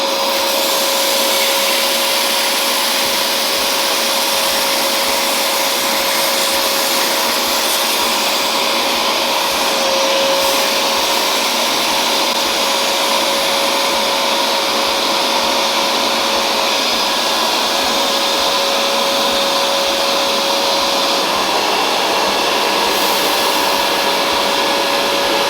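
A Hoover vacuum cleaner runs steadily and loudly for the whole stretch, a continuous broadband roar with a fixed motor whine and no voices over it.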